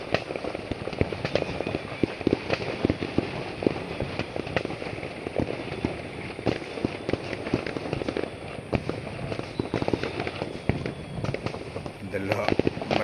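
Firecrackers for Chinese New Year in Taman Mutiara Rini, Skudai, Johor Bahru, Malaysia crackle in dense rapid strings of sharp pops, loud and continuous, with people talking underneath.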